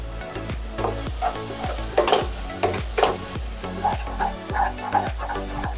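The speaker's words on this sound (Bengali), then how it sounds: "এবার এই ব্রাউন করে রাখা পেঁয়াজের মধ্যে দিয়ে দেবো আমি খানিকটা কাশ্মীরি লঙ্কার গুঁড়ো" Browned onions sizzle in a pan while being stirred with Kashmiri chili powder for biryani, each spoon stroke scraping in a steady rhythm over the constant frying hiss.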